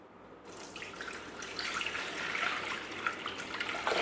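Water runs from a tap into a Thermomix bowl, a steady close pour that starts abruptly and keeps a continuous hiss and splash without speech.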